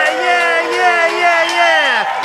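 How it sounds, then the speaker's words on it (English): An audience cheers loudly for Rick, with sustained whooping and hollering voices rising and falling together and faint clapping underneath throughout. "let's hear that applause"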